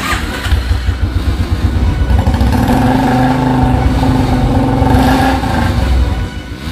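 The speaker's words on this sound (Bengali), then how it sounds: "মোটরসাইকেল স্টার্ট করতে হবে" A motorcycle engine starts and revs loudly and close by, holding a steady, rough drone with swells in pitch before easing off at the end; no voices are heard.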